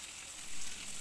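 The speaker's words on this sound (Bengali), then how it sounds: "লো টু মিডিয়াম ফ্লেমে 2 থেকে 3 মিনিট একটু ভেজে নেব।" Star fruit pieces frying in a pan over low to medium flame for a chutney, a steady soft sizzle that swells briefly midway, with no voices.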